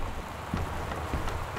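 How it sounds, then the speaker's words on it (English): Steady rain in the video game Gone Home patters in a continuous, moderately loud hiss of drops, with no talking. "the rain just really freaked me out there"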